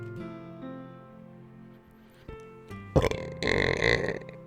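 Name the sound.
burp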